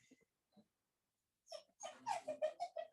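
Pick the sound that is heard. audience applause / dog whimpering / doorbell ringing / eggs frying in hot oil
dog whimpering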